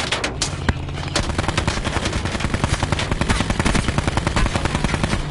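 Rapid automatic gunfire in the Call of Duty Blackout video game, loud and continuous with dense repeated shots and a few heavier bursts, no talking over it.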